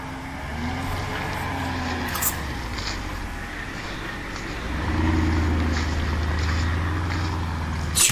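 A Renault Clio used as a safety car drives past with a steady motor rumble, its engine note rising and swelling midway, captured on old footage with faint background noise.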